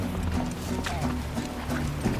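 Horse hooves clip-clop along a mountain trail in Mongolia, a quick, uneven patter of steps close by, mixed with creaking tack and outdoor noise.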